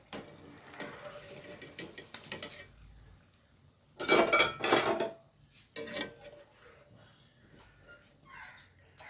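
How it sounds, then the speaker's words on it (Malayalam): Fried quail egg bajji scooped out of hot oil, with close metallic clatter of a scoop against the pan and a loud sizzling burst midway, then quieter scraping, with no talking. "ഇന്നത് കോരി എടുക്കാം കേട്ടോ നമുക്ക്"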